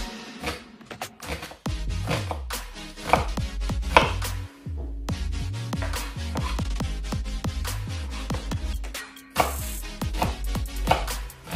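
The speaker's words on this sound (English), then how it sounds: "Then I'm going to mince the onion as well." A knife minces onion on a cutting board in fast, close, rhythmic chops, with a few short pauses between bursts.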